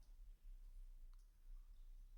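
A pistol trigger gives a single faint, sharp click during dry-fire practice, heard once against a quiet, low background hum.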